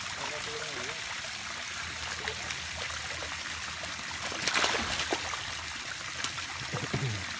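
Water pours and streams steadily into a fish tank while fish are released, with a continuous splashing flow and a brief louder surge midway. Voices talk over the sound.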